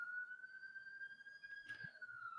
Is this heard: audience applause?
no